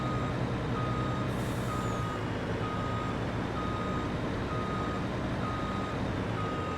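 A truck backing up in Farming Simulator 22 gives out evenly spaced reversing beeps, a steady warning tone repeating over a constant engine rumble with a brief hiss near the start.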